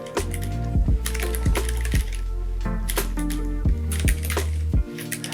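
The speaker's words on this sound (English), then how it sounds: "typing on the Boox Go Max is going to be a good time" Keys clack on a keyboard paired with a Boox Go Max e-ink tablet, producing close, crisp, irregular taps in quick bursts with brief pauses, without any voices.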